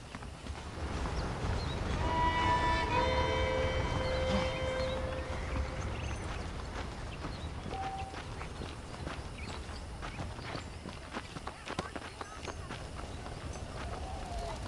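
Horse hooves clip-clop at a steady walking rhythm in the Western video game Red Dead Redemption, close and moderately loud, with whistling tones and music-like ambience over them early on.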